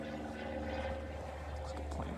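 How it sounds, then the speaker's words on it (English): A propeller airplane passes overhead in a tropical fruit tree garden, its steady droning hum carrying at a distance over faint outdoor background noise. "Looks like a plane's flying over."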